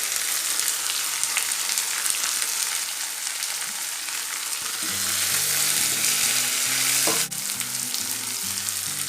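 Coriander and mint frying in a pan for kara chutney, giving a continuous close sizzle with occasional stirring, and a sharper clink near the end.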